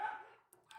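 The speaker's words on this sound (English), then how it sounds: "Sorry for my dog out there." A dog barks once, faint and distant from somewhere outside, a short muffled yap that quickly fades.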